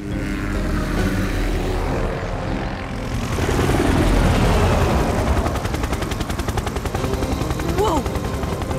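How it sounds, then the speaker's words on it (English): Cartoon drone flying with a loud, continuous buzzing whir that swells and rattles, mixed with other cartoon sound effects. "Hey, I see a drone!"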